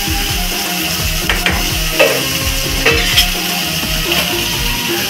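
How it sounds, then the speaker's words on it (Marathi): Prawn masala bubbling and simmering in a pan, a steady close sizzle with a rhythmic scraping pulse and a few brief clinks. The sound is continuous and fairly loud, with no talking. "अच्छा, छान आता उकळी आलेली आहे आणि छान शिजतंय."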